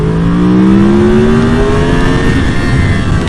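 2014 Yamaha R1 sport motorcycle accelerating hard in first gear: a loud, close engine whine sweeps sharply upward for about two seconds, then eases off as the throttle closes, with no talking.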